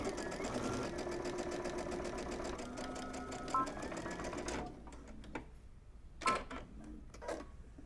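Sewing machine running a French seam at a 3/8 inch allowance, a steady rapid stitching hum with a fast needle rhythm for about four and a half seconds, then stopping, followed by a few faint clicks and handling sounds.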